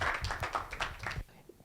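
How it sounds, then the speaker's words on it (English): Lecture audience gives a short round of applause to a speaker, brisk overlapping claps that stop abruptly after about a second. "please give a big round of applause to Wandile."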